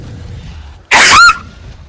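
One sharp, loud sneeze bursts out close up, brief and high-pitched, rising out of a quiet background.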